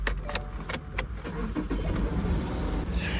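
A 2019 Subaru Outback engine cranks and fires up after an oil change, a brief clatter of starter ticks and key jingles giving way to a low, steady idle rumble, close and moderately loud.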